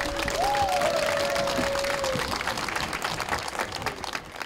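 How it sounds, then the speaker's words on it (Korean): Audience at a televised award ceremony applauding, a steady wash of clapping from a large crowd that fades slightly toward the end, with a faint tone running through the first half. "힘찬 박수 부탁드립니다"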